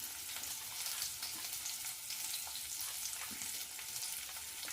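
Green chilli and garlic frying in a little refined oil, a steady close sizzle with fine crackling throughout and no voices.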